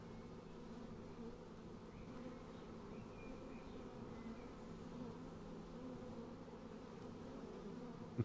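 Excited bees swarm in a steady, continuous drone in the video game Sumatra: Fate of Yandi, a faint buzzing hum that holds without pause and no voices over it.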